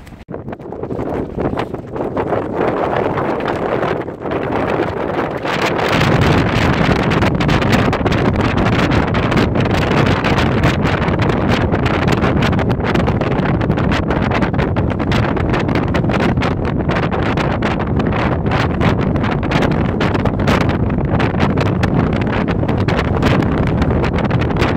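Strong mountain wind in the Mourne Mountains, gusting near 50 mph, buffets a North Face Westwind tent, making a loud, continuous roaring rush that swells even heavier after the first few seconds and never lets up.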